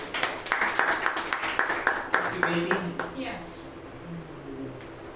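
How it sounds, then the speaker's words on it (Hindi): A church congregation claps to welcome a visitor during a Hindi-language service, with rhythmic, fairly close hand claps that fade out after about three seconds, leaving quieter room sound. "फिर भी हम तालियों के साथ स्वागत करेंगे।"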